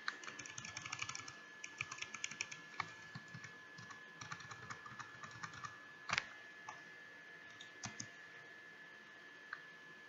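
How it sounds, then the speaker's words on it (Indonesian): Typing on a computer keyboard while filling in a Google Form regular-expression field: a steady, fairly quiet run of close key clicks with a few louder taps, no talking. "Saya ketik ulang."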